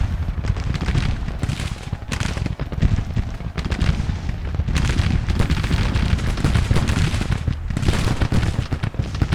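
Sustained battlefield din of Civil War artillery and massed musket fire in Grand Tactician, booming and crackling continuously with dense overlapping shots at close range, no voices.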